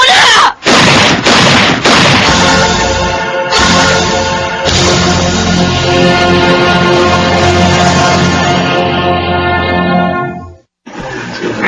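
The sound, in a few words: gunshot sound effect in a radio drama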